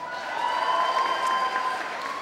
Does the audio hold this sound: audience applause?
yes